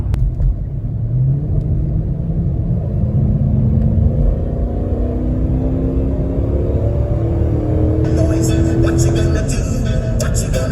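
A 2010 Dodge Charger police car with a 5.7 engine drives along, a loud steady rumble with the engine note rising through the gears, while people talk inside the cabin.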